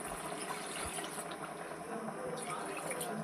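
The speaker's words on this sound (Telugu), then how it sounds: "ఈ స్టేజ్లో కొద్దిగా వాటర్ వేసుకున్నాం." Water is poured into a pot of cooking chicken curry, a soft, steady trickling splash that stays faint and even for a few seconds.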